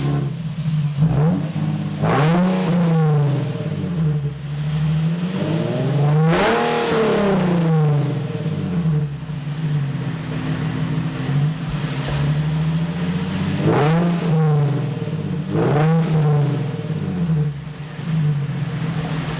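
A car engine fitted with test pipes revs loudly several times, each rev rising sharply and falling back to a rumbling idle between bursts.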